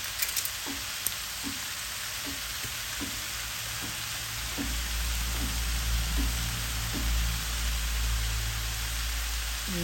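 Oyster sauce hits a hot frying pan and sizzles in a steady, bright hiss, with soft stirring taps near the start and a deeper rumbling boil joining about halfway through.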